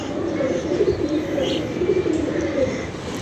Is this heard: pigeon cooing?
yes